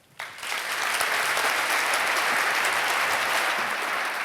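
A keynote audience breaks into sustained applause that starts abruptly and stays loud and dense throughout, with no voices over it.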